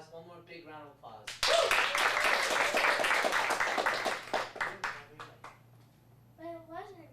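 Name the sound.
applause for kids after acting monologue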